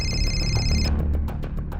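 A telephone in a police setting rings with a steady electronic trill that cuts off partway, over a dense background rumble of room noise and faint thuds.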